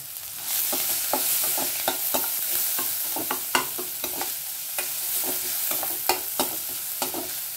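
Chili, ginger, garlic and onion being sautéed in a pan for a tapioca paniyaram breakfast: a steady oil sizzle with repeated close scraping and stirring strokes of a spoon against the pan, no voices.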